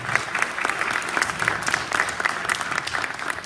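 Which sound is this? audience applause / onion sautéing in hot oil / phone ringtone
audience applause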